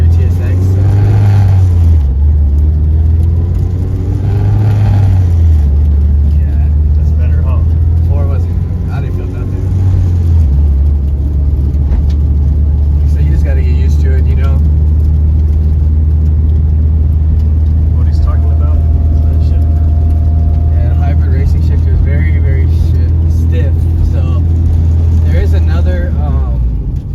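A Honda Civic with a swapped K24 engine and Si 6-speed transmission pulls hard from inside the cabin, its loud engine drone climbing and dropping through several gear changes, then settling into a steady roar while a person talks over it.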